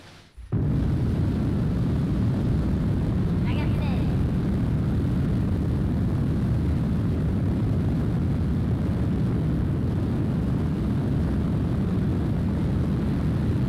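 Rocket engine launch in Kerbal Space Program 2, a sudden ignition followed by a continuous loud low roar that holds steady without pause.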